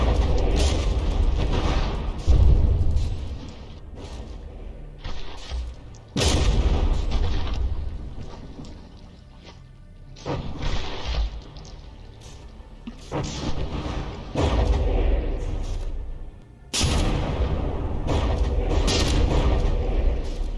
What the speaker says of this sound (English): This poor APS gun it's trying, because it's lost like all of its barrels